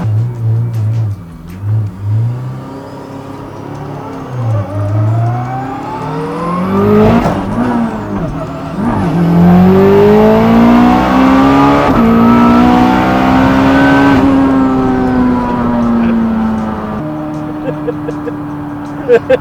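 An 800 hp K20-swapped Honda NSX with a sequential gearbox accelerates hard and loud, engine revs climbing in sweeping pulls while the big tyres walk, with people talking over and around it.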